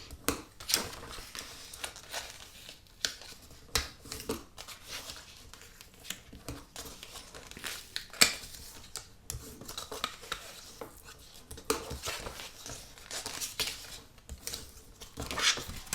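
Cardstock is folded along score lines for a box card, giving soft close creasing, rubbing and paper-handling sounds in irregular bursts with small taps, faint and without voices.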